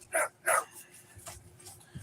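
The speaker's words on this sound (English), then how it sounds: "the puppies are playing, so y'all hear them too" Puppies bark and yip in play, two quick sharp barks up close followed by softer whimpers and yips, with no talk.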